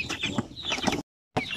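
Chickens being shipped from Bukidnon to Batangas City cluck close by in quick, throaty bursts that break off into a brief silence and then resume.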